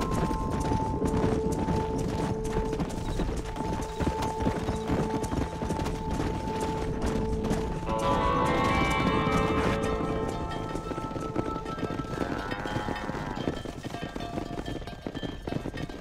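Horse hooves clip-clop steadily during cattle herding in Red Dead Redemption, a continuous running rhythm over game ambience with a neigh-like call midway.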